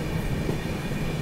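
A Rajdhani Express train rushes past at close range near Yadgir, a loud steady rumble of wheels and carriages with no voices.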